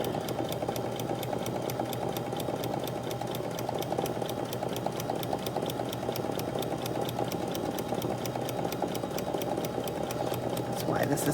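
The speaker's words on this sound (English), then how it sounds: "We backstitch, which is that button on this machine." A sewing machine runs steadily while stitching a sweatshirt, its rapid mechanical hum continuous for the whole stretch beneath a person talking.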